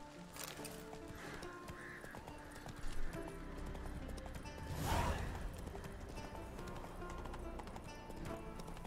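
Roach, the horse in The Witcher 3, moves along with a steady clip-clop of hooves under a layer of ambient game sound, and a louder whoosh swells briefly midway through.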